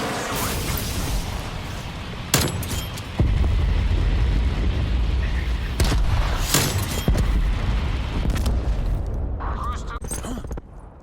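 A cruise missile strike explodes with heavy booming blasts and sharp bursts, followed by a sustained loud low rumble that fills the scene, with voices faintly present underneath.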